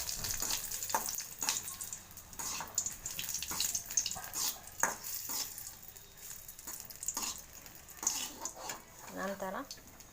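Byadgi chilies fry in hot oil in a pan, giving an uneven crackling sizzle with scattered sharp pops and stirring noises, and a brief voice near the end.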